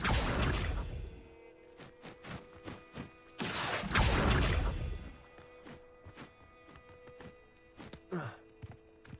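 An Accio summoning spell is cast in the video game Hogwarts Legacy, heard as several whooshing magical bursts with scattered thuds and clicks in a quiet game setting.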